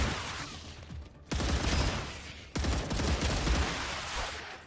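Sustained automatic gunfire in a video game, dense loud bursts of rapid shots that briefly cut out twice before resuming, with no talking over them.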